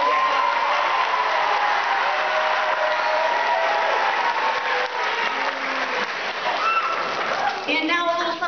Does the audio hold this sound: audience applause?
yes